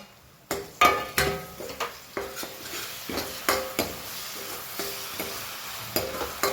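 Chopped tomatoes and onions sauté in a pan. A soft sizzle runs underneath repeated sharp scraping and tapping stir strokes, the early ones louder and the later ones lighter, close up, with no voices.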